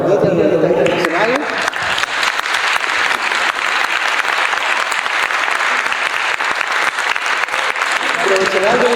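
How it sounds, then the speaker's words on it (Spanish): Loud, sustained applause from an audience honoring Claudita, an international director, at a public accountability ceremony, dense clapping filling the whole stretch with a brief voice at the start and end. "yo quiero que brindemos un fuerte aplauso para Claudita, el Director Internacional."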